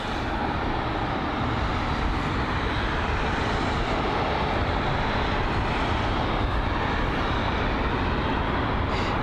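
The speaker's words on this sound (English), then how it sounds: "the Iberia A320neo making its way over to the gate area" An Iberia Airbus A320neo taxis toward the gate at London Heathrow, a steady broadband jet engine roar that holds constant at moderate distance for the whole stretch, with no voices.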